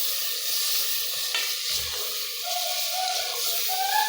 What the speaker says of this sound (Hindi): अब मैं थोड़ा सा इसको अच्छी तरह भूनूंगी और हल्की आंच पे दही भूनती हूँ